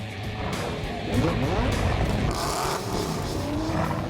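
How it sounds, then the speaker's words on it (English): Sports cars, supercars and hypercars push their engines hard on a private runway; roaring, rising engine notes sweep past at moderate distance over a constant rumble. "Drivers of sports cars, supercars and hypercars gather together at this private runway to push their motors to the limit"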